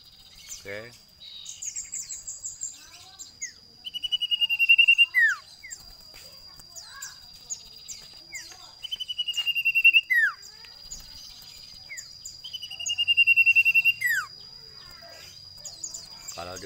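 Common iora songbird about a year old singing close by, repeated clear whistled phrases with sharp rising and falling notes in three bursts, over a faint background of chirps and insect hiss.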